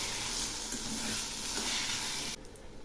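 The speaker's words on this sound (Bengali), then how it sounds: "এখন আমি এগুলি ঘন ঘন নাড়তে থাকবো।" Arum (kochu) vegetable dish frying in a pan, a loud continuous sizzle and hiss with steady stirring, close by and without voices, the sizzle dropping suddenly near the end.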